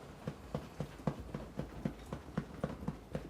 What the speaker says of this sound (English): Find your sternum and tap.